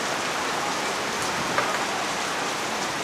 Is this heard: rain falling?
yes